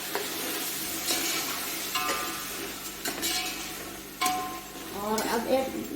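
Beef with crushed red chili, salt, coriander powder and turmeric cooking in a pot, giving a steady close sizzle broken by several scraping stirs and light clinks of the spoon, with a brief voice near the end.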